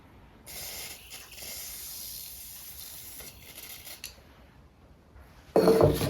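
Penetrating oil sprayed from an aerosol can onto seized pins of a mill angle plate in a workshop, a soft hissing spray in short bursts over quiet background, ending in a louder, nearer clatter.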